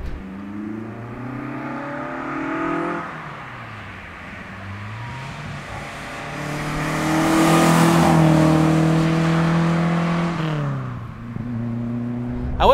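A modified 1975 Ford Escort RS2000 accelerates hard through its gears, the engine note climbing and dropping at each shift, peaking loudly mid-run before easing off, heard from inside the car.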